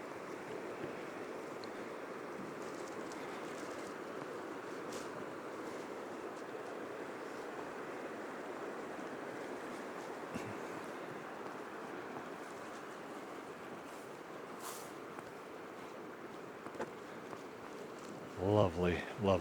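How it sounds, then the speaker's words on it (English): River flowing beside a walking trail at Point of Rocks, Paradise Valley, a steady, soft, broad rushing wash that holds even throughout, with brief footsteps or handling sounds near the end. "Let's listen to the river for a second."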